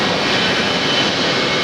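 A Boeing 757 jet at Atlanta's Hartsfield airport gives a loud, steady, broadband engine roar throughout, with no talking.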